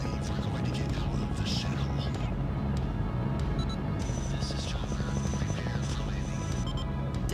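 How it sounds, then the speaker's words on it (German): A helicopter in the video game Nightmare House 2 gives a steady, droning low rumble that runs unbroken for several seconds beneath a dense mix of other game sounds. "Ich höre schon einen Helikopter."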